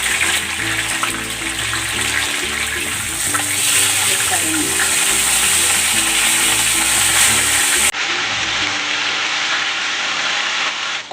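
Tilapia fries in hot cooking oil with a loud, dense, continuous sizzle and crackle that carries steadily throughout, dropping slightly in brightness near the end.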